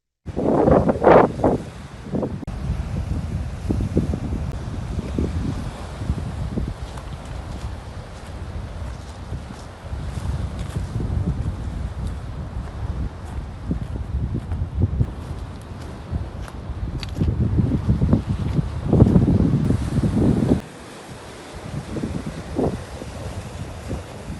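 A strong lodos wind buffets the microphone on the İskenderun coast while rough sea waves surge and crash against the flooded shoreline, a loud continuous roar with swelling peaks and no speech.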